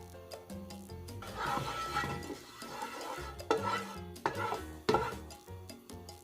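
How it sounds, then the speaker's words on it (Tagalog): Oil goes into a hot, clean wok before pork is sautéed, giving soft sizzling and crackling mixed with scraping and clinking of a utensil against the pan, close and fairly quiet. "In a clean wok, just pour in the oil."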